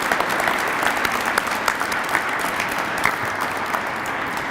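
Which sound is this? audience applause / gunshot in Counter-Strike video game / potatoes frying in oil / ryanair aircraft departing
audience applause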